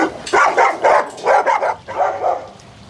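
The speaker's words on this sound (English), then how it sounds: "If you listen real close, you can kind of hear dogs barking." Dogs bark in a quick series of loud, sharp yaps close by, several barks in a row with short gaps between them, and no one talking.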